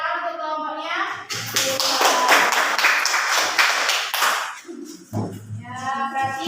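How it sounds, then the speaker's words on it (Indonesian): Students in a classroom clap for a group, a dense burst of applause lasting several seconds, with children's voices speaking before and after it. "tepuk tangan untuk kelompoknya"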